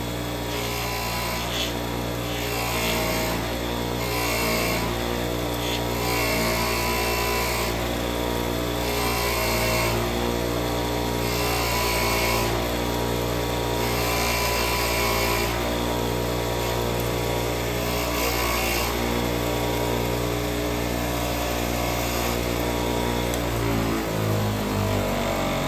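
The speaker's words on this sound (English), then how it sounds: "Just spin it around on the wire wheel." A bench wire wheel spins continuously while motorcycle brake parts from a 2009 Police Special are pressed against it to strip brake dust, a loud steady whirring and scratching grind that runs without pause throughout.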